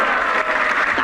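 A crowd at a Fliptop rap battle breaks into loud, steady applause, a dense wash of clapping that fills the whole short moment with no voices on top.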